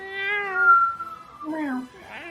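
A man imitates a cat's meow, a drawn-out high vocal mew that falls in pitch, followed by a shorter second mew and a brief rough sound, loud and close.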